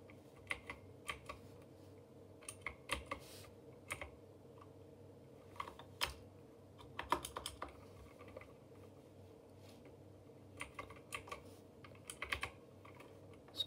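Close typing on a computer keyboard in irregular bursts of clicking keystrokes, fairly quiet over a low background hum, with no speech.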